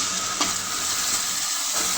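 Ginger, cumin and garam masala frying together in a pan over browned onions, a steady close sizzle with a few stirring scrapes, no voices.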